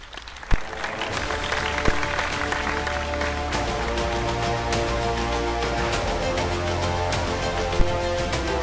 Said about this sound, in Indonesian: Tepuk tangan yang kenceng ya.